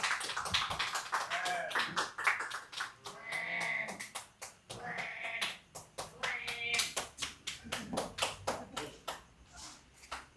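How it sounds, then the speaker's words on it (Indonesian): An audience claps at a book launch, with a quick, steady run of sharp claps at close range that keeps going and carries bursts of voices over it. "kita berikan aplaus untuk Nisha"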